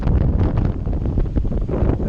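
Strong wind buffets an outdoor microphone on a blustery day where a small drone is being flown, a continuous loud rumbling roar with gusty surges throughout.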